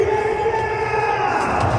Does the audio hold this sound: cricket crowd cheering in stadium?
yes